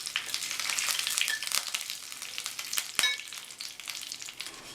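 Urad dal, curry leaves and two whole dried red chilies crackle in hot oil as a tempering for curd rice. The sizzle is close and steady, with sharp pops and a stir scrape near the end.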